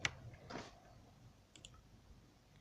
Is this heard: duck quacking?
no